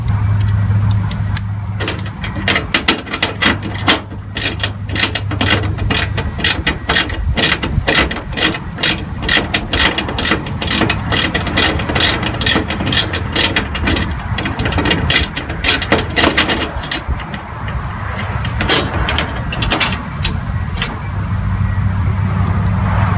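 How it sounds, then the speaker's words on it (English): A ratchet with a 5/8 socket clicks rapidly and steadily while removing fender flare retainers on a 1999 Jeep XJ, a long run of close metallic pawl ticks with brief pauses near the start and end. "I'm going to start removing the retainers here, and I'm using a 5/8 socket."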